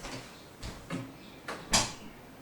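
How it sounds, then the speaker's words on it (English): An indoor door opens with a few soft knocks and bumps spread over a couple of seconds, ending in a sharper, louder clack of the latch or frame close by. "I need to open my door"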